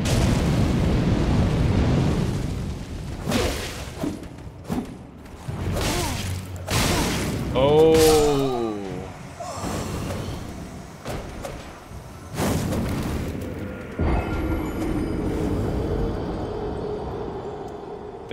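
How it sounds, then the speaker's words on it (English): Explosions and booming impacts in the Elden Ring video game, several loud bursts and rumbles spread over the span alongside whooshing effects and a brief ringing tone, with game noises throughout and no talking. "Explosion ahead."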